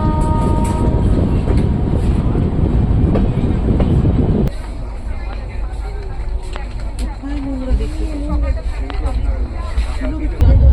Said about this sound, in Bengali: ট্রেন ছুটে চলল শিয়ালদার উদ্দেশ্যে